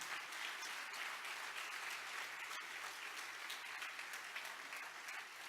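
A church congregation gives sustained, even applause to Jesus Christ, a dense wash of many hands clapping at a steady level from a moderate distance.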